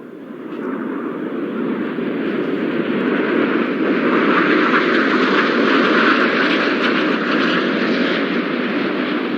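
Red Arrows jets flying past at a 2018 RAF Cosford airshow, their broad roar swelling loud and steady as they pass close overhead, filling the sky with continuous engine noise.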